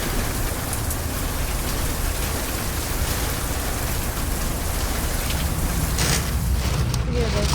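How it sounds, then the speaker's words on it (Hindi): Dense, roaring downpour of heavy rain with hard pattering hits of hail on windows during a strong storm, loud and constant with no talking. "ये आवाज सुनो बालाजी ने क्या बारिश करी है क्या गड़े पड़ रहे हैं"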